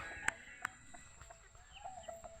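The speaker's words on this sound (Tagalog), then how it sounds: "may mga manok ako dito" A few short, quiet clucks from chickens sound in a calm setting, scattered sparsely with faint background noise between them.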